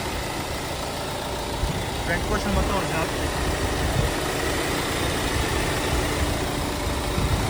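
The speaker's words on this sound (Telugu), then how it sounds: "ఇంజన్ మాత్రం చాలా బాగుంది సైలెంట్ ఉంది ఇంజన్" A 2018 Hyundai Creta SX diesel with automatic transmission idles with a steady, even engine hum, while someone talks over it.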